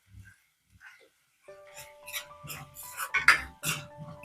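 Tomatoes sautéed for a chickpea kara kuzhambu are stirred with a metal spoon that scrapes and clinks against the pan in close, irregular strokes, with a few soft knocks at the start and a tone mixed in.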